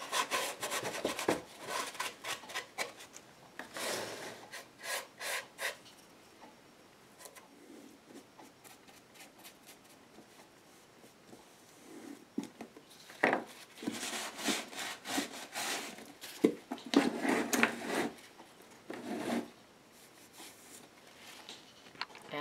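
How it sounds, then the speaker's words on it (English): Rubbing wet paint off the edges of an altered wooden cigar box, soft scratchy rubbing strokes close by that come in irregular bursts with quiet gaps, no talking. "Put down some paint and rub it off."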